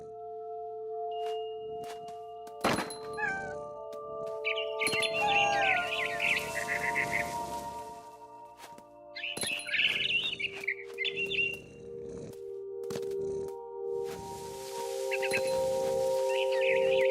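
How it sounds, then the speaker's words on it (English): A barn swallow in the video game What Remains of Edith Finch chirps in short, clear bursts over quiet outdoor ambience with faint insect sounds, and no one speaks. "Then I heard chirping outside my window. It was a barn swallow going back to her nest."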